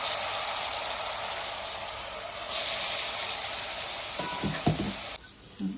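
A ground spice paste with asafoetida and turmeric fries and sizzles in a hot pan, a dense steady crackle with a few stirring scrapes near the end before it cuts off.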